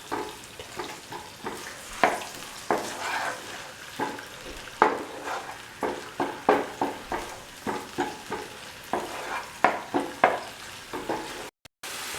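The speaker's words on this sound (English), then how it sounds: "Add salt to taste and mix." Mushroom masala being stirred and mixed in a frying pan, a steady sizzle under repeated scraping strokes of a spoon against the pan, close and fairly loud with a regular rhythm.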